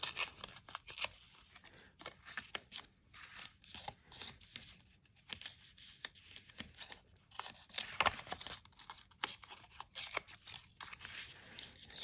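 Tape being peeled off masterboard paper, a series of close, dry tearing and ripping strokes with crackly bursts and short pauses between pulls.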